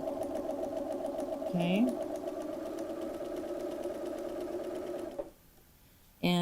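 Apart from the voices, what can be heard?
sewing machine sewing a 5/8 seam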